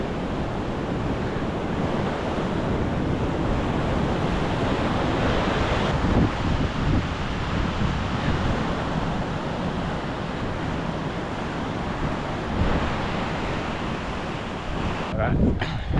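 Surf washes steadily onto a beach under gusting wind that buffets the microphone, a constant broadband roar with no breaks across the whole stretch.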